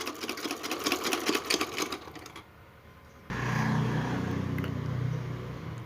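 A sewing machine stitches along the sides of a homemade fabric face mask, a rapid pattering of needle strokes that pauses briefly before resuming as a steadier, smoother motor hum.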